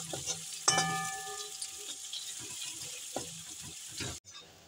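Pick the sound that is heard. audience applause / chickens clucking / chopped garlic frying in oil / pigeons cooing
chopped garlic frying in oil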